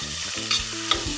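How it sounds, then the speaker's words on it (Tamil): Chopped onions sautéing in oil for a pressure-cooker prawn biryani, a short burst of close, steady sizzling with quick scraping strokes of a spoon against the pan. "நல்லா வெங்காயம் வதங்கட்டும்."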